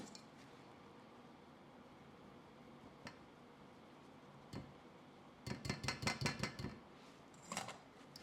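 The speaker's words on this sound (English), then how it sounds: "Now sift half of the dry ingredients. It's a mixture of flour, cocoa powder, and baking powder." A mix of flour, cocoa powder and baking powder sifted for chocolate cupcakes: faint scattered ticks, then a quick run of light rhythmic taps on the sifter and a last brief rattle, all quiet and close with no talk.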